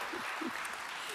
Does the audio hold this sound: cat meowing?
no